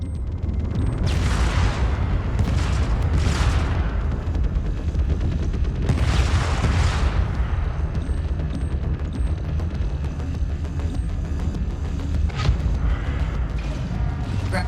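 Explosions as a target is destroyed in the space video game Void Crew: several heavy booms burst over a constant loud mechanical engine rumble.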